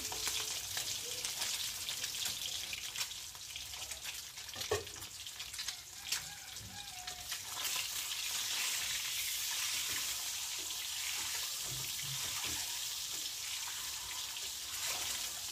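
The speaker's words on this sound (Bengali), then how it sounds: "কড়াইতে তেল দিয়ে দিচ্ছি, তারপরে এক এক করে ডিমগুলো দিয়ে দিলাম।" Eggs fry in hot oil in a wok with a steady, even sizzling hiss that runs throughout, along with a few faint clinks.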